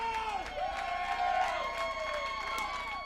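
Wrestling crowd cheering and whooping at an independent ring show, with rising and falling shouts and whistles over steady crowd noise at moderate volume, and occasional thumps from the ring.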